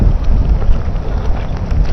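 Heavy rain pours down at night beside a fishing pond, a dense, loud and continuous hiss with a low rumble and no voices.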